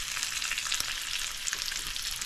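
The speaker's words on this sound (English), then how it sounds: "Oh, it's getting fried." Bacon frying in a pan gives a steady, close crackling sizzle with a dense spray of tiny pops throughout, unbroken and even in loudness, with no talking.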